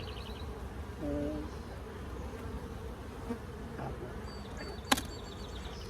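Honey bees buzz around an open hive during a hive check for swarm cells, a faint steady hum with a few louder passes close to the microphone and a sharp click near the end.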